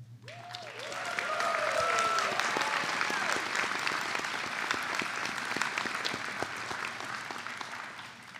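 Audience applause at a college commencement ceremony, a sustained wash of clapping that swells within the first second and holds steady, with brief whistles and cheers rising over it early on.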